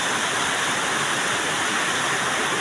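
Heavy typhoon rain from Typhoon Carina pours down in a dense, constant hiss, loud and unbroken throughout.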